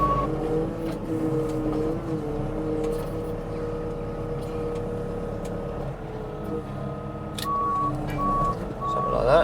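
A Manitou telehandler on a farm yard holds a steady loud diesel drone up close, with a high reversing beep pulsing in regular intervals near the end.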